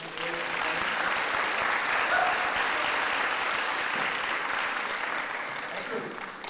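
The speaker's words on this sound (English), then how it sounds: "So give yourselves a round of applause." Audience applause at a university jazz festival concert, a steady dense wash of clapping from a full room lasting throughout, fading slightly toward the end.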